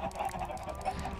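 Chickens clucking in the Minecraft video game, several short honking squawks in quick succession, faint and brief.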